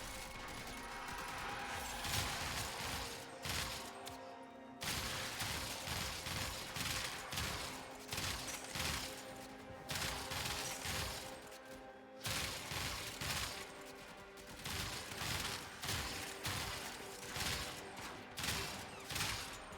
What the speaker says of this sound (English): it's still just that nice lever action rifle. It's just that it is a little bit more powerful because it's got blast on it for free.